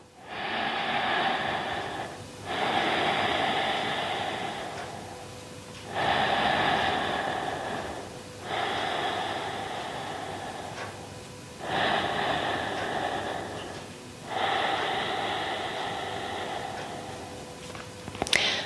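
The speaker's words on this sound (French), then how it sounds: "ta respiration peut devenir un peu bruyante, comme ceci." Loud deliberate breathing during a postpartum yoga session, with six long noisy breaths in a slow steady rhythm, air drawn in through the nose and pushed out through the mouth, close and otherwise quiet.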